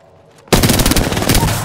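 Gunfire erupts in a shooter game, a sudden loud close burst of rapid shots that follows a quiet moment and continues as sustained automatic fire.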